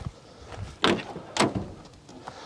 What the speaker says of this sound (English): The door locks work.